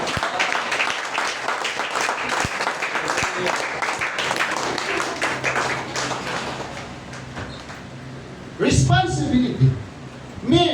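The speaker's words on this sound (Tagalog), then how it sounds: "Palakpak para sa Diyos." Congregation applause at a Sunday school church service, steady dense clapping for about eight seconds that fades out, followed by a louder burst of activity with speech near the end.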